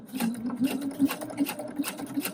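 A sewing machine with a ruffler presser foot stitches ruffles at a slow pace, its close motor hum carrying a steady rhythmic thump with each stitch.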